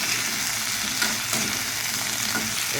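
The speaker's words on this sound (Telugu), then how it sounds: "మార్నింగ్ ఫ్రైడ్ రైస్ చేస్తాను" Carrot fried rice sizzles in a hot pan, a continuous close frying hiss broken by a few sharper stirring scrapes.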